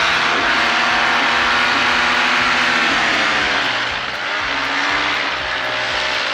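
An Ozone RoadMAX paramotor trike's propeller engine throttles up outdoors on a windy day, a loud continuous buzzing drone whose pitch shifts and swells partway through, heard alone without talk.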